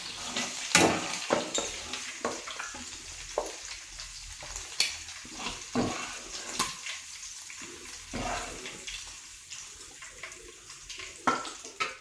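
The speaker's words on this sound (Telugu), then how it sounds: "చక్కగా వేగనిద్దాం." Tiger prawns fry in a pan with a steady hiss, broken by sharp scrapes and knocks as they are stirred, close and clear with no voices.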